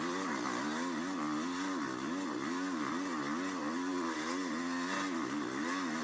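A dirt bike engine revs hard and continuously while climbing a steep hillside, the pitch wavering up and down as the rider works the clutch and throttle, loud and close throughout with no talk.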